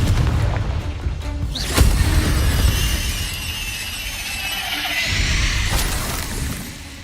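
Confringo blasting curse in the Hogwarts Legacy game: a sharp booming burst near the two-second mark, followed by crackling, shattering debris and a long rumbling tail.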